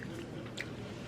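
Someone bites into a hard, very crunchy loaf of homemade bread and chews it, producing a brief close-up crunch and chewing sound with no speech.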